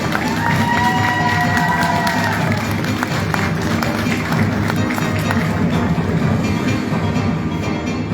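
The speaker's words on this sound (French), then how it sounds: "On applaudit bien fort" A large crowd claps and cheers steadily throughout, loud and sustained, with shouts rising above the continuous applause.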